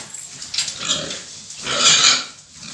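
Fattening pigs in a farm pen grunt and squeal in several bursts, loud and close, the noisy calls swelling and fading with no talking.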